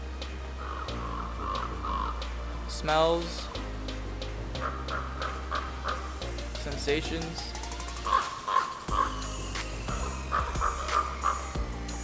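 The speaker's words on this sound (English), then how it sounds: "I think they're crows calling." Crows caw repeatedly at a distance, harsh calls scattered through the scene, under a calm voice speaking softly and steady outdoor ambience.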